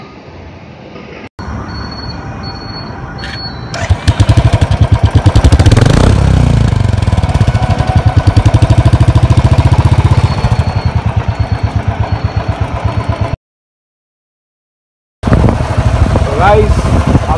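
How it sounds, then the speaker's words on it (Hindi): A Royal Enfield Thunderbird 350X motorcycle engine thumps loud and close on a test ride, rising as it revs and holding a heavy pulsing drone, broken by a brief cut to silence near the end. "ये मैं सब रॉयल एनफील्ड थंडरबर्ड 350X को राइड कर रहा हूँ और ये एक टेस्ट ड्राइव है"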